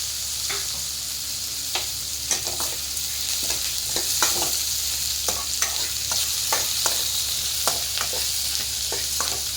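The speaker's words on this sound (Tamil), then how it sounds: "இதை ஒரு 2 பரட்டிட்டு கையோட முள்ளங்கியும் இது கூட சேர்த்து பரட்டி விட்டுடலாம்" Tomato and radish for a radish chutney stir-fry in a pan: a steady close sizzle runs throughout, with repeated spatula scrapes and taps at an irregular rhythm and no voices.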